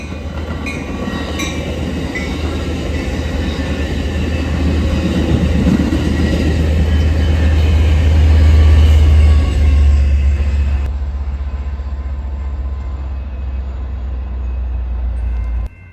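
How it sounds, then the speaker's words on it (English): A San Joaquins passenger train rumbles past at close range, a loud steady roar of wheels and engine swelling then easing as the cars roll by. "This is San Joaquin's train, heading from Jacqueline Square to Brooklyn."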